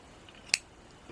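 A single crisp snip of scissors cutting crochet yarn on a granny square cardigan, one short sharp close cut in an otherwise quiet moment.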